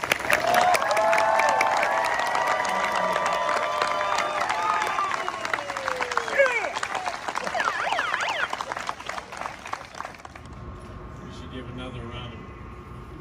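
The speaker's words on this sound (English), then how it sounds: "Let's go ahead and give all the graduates a big round of applause." Crowd at a school graduation ceremony applauding and cheering the graduates, a dense, loud burst of clapping with whoops and voices over it, continuing for about ten seconds before cutting off abruptly into a quieter room.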